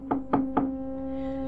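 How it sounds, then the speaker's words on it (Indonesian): Three quick, loud knocks on a house door late at night, evenly spaced and close, followed by a steady tonal hum lingering underneath. "Suara gedoran pintu itu terdengar keras dan beberapa kali"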